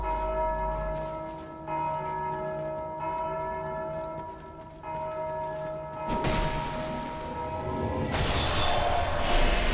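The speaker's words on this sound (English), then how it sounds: "I don't think I was supposed to ring that bell." A large church-style bell tolls in the Dark Souls 2: Scholar of the First Sin game, its long sustained ringing harmonics filling the scene loudly, then joined by a burst of broadband noise and further bright ringing toward the end, with no talking.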